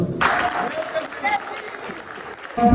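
Audience applause and cheering at a ceremony, a brief burst of clapping that fades under a speaking voice before picking up again at the end.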